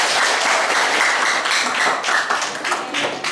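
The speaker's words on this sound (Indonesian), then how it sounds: "tepuk tangan buat kita semua" A classroom group of students claps together on a teacher's cue, a dense, loud burst of applause that stays steady for a few seconds, then thins and becomes more ragged toward the end.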